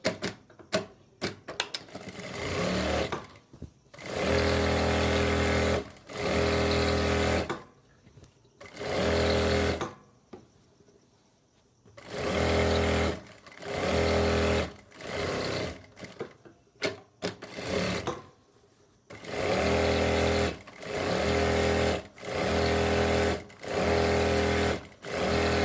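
A sewing machine stitching the hem of palazzo pants, running in repeated fast bursts of a few seconds each with brief stops between, close and loud.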